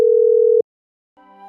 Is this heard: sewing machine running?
no